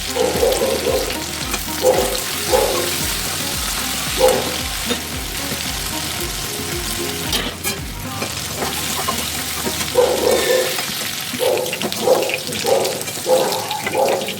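Potato pieces fry in oil with salt and turmeric, a steady close sizzle broken by bursts of stirring and clattering against the pan, with no speech.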